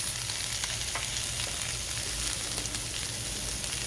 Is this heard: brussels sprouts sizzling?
yes